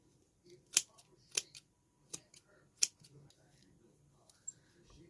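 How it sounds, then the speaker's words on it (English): Scissors trim striped fabric for a bow in a handful of crisp, separate snips spaced irregularly over a few seconds, close and fairly quiet against a hushed room. "So just start trimming"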